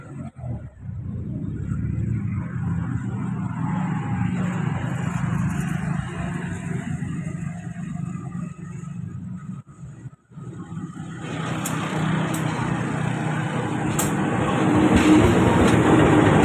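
A Walahar commuter line train arriving at Purwakarta station, heard as a loud, continuous rumble of the locomotive and rolling wagons with faint clicking of the rails. The sound grows louder and brighter toward the end, with no speech.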